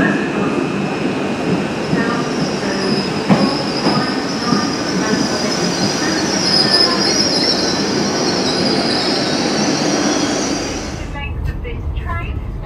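A Dartmoor Line train bound for Newton Abbot rumbles loudly into a station, its wheels squealing high and constant before it slows and quiets near the end.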